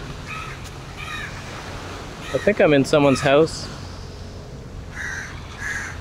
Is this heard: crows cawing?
yes